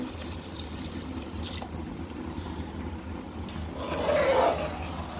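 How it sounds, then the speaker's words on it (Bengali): Hot water is poured into a pot of biryani mixture, a low steady rushing that swells into a louder splashing pour near the end, close and alone. "গরম পানি করে রেখেছি, যে গরম পানিটা দিয়ে দেবো।"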